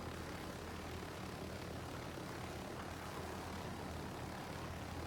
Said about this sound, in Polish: może dodam samoloty, bo to jest normalne lądowisko